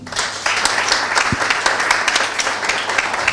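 Applause from a seminar audience, dense and steady throughout with many hands clapping at once, fairly loud and continuous with no talk over it.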